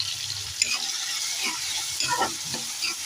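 Tomatoes for a drumstick and cucumber mixed curry fry steadily in a pan, a constant close sizzle broken by a few scraping stirs of the spoon, with no talking.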